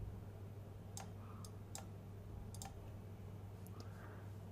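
A computer mouse clicks several times at irregular intervals in 3D rendering software, sharp and faint over a low steady hum.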